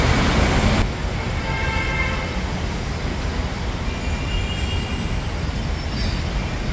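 A metro train at a station, a steady loud rumble of rolling carriages with faint wheel squeal tones, continuous throughout without any talk.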